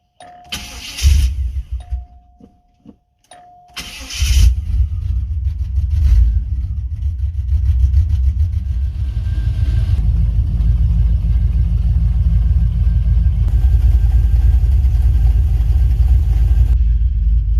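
A Cadillac repaired with junkyard and aftermarket parts cranks in a few short bursts, then catches and settles into a loud, steady, close idle.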